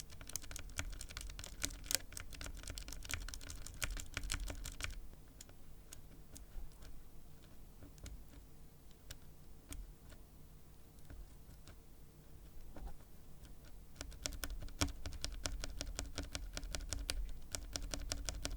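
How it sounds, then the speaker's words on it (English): Lubed mechanical keyboard switches pressed repeatedly, producing a dense patter of soft, close clacks that thin out in the middle and pick up again toward the end, faint and without voices. "you press the switch up and down to hear if it makes a difference in sound"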